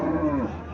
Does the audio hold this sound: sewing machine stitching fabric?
no